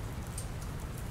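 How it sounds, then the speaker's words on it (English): Steady rain patters in a video game, a soft, continuous hiss, fairly quiet and even throughout, with no voices. "I don't think it's supposed to still be raining"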